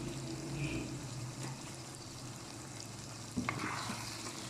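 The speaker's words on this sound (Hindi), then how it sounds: "और इसकी करेंगे भुनाई।" Liver with spinach and dried fenugreek fries in a pan, a steady close sizzle with a low hum beneath and a brief stirring clatter near the end, no talk.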